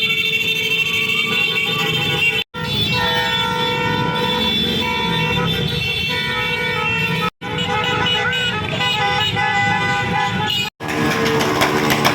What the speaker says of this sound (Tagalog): Ayan, nagbubusinahan na po sila.